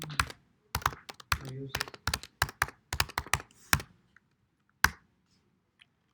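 Bursts of typing on a computer keyboard during a database programming lecture, with clustered sharp key clicks followed by a few isolated taps, close to the mic, and a voice speaks briefly between them.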